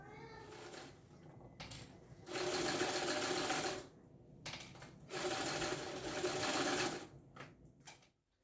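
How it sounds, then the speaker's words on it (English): A cylinder arm sewing machine stitches a big bag in steady bursts of rapid needle chatter, broken by short pauses, close by and fairly quiet, with no talk. "I'm actually going to go ahead and continue sewing this until I reach that other line"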